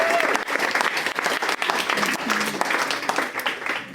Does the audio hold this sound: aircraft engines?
no